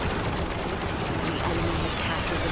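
Rapid bursts of gunfire from a newly built gun vehicle in the robot-building combat game RoboCraft, crackling in dense volleys over a constant layer of battle noise.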